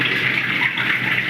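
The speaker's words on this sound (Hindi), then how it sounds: "तो ये पानी मैं ड्रेन कर देती हूँ" Water draining out of a washing machine after a load of clothes, a loud, steady gushing rush of liquid close by, continuous and unbroken with no voices.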